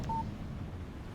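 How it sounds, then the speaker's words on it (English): A single short, clean electronic beep sounds as a text message alert on a phone in the Alan Wake video game, then fades into a quiet, low ambient rumble. "Text message from Barry."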